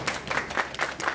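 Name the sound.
applause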